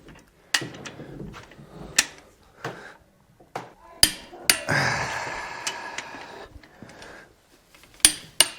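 A Pittsburgh torque wrench tightens a bolt on an Isuzu 4BD1T diesel excavator engine, giving a series of sharp, close metallic clicks and clacks spaced irregularly apart, with a short burst of rattling ratchet noise in the middle.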